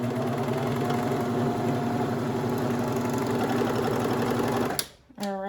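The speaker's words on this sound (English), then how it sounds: "You're going to sew this part." A sewing machine stitching a toddler halter top, its rapid needle chatter running steady and close for several seconds before slowing to a stop.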